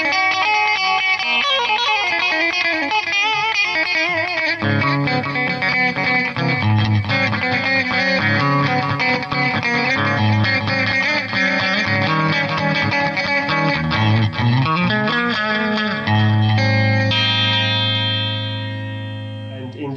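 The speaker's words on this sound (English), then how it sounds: "This instrument, it has this kind of like a twangy effect" Bright, twangy custom electric guitar with Telecaster-style pickups and a snappy attack, playing a continuous run of notes and chords, close and loud, ending on a ringing chord.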